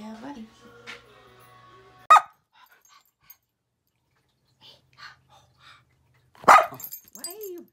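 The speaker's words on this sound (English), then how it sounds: "Why are you barking?" A pet dog barks in a home kitchen during a holiday meal, with two sharp loud bursts separated by quiet, alongside some background talk and clatter.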